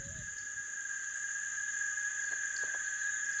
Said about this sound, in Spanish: Un coro de chicharras también se pueden escuchar.